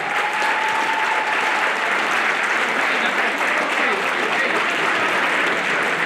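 Sustained applause from a large crowd at the Clan Wars 46 combat sports event after the first bout, loud and steady throughout, with cheers mixed into the dense clapping and a brief whistle near the start.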